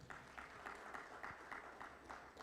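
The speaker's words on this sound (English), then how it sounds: "Let's give a Reverend a round of applause again." Faint audience applause for a Reverend at a World Vision Uganda event, a soft steady patter of clapping with slightly pulsing rhythm, heard at a distance for a couple of seconds.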